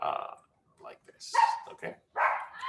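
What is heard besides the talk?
dog barking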